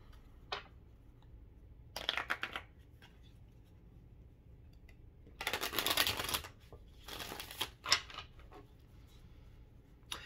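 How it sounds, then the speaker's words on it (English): Tarot cards are shuffled in brief bursts of papery riffling and flicking, a few separate clusters of close, soft card noise with quiet pauses between them. "Let's go ahead and pull some tarot."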